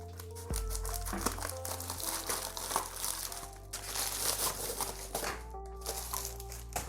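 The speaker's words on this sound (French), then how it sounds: "on va tout de suite ouvrir ce colis" Packaging crinkles and crumples up close as a parcel holding two 3x3 Rubik's cubes is opened, a continuous papery rustling with sharper crackles and rubbing, heard alone without speech.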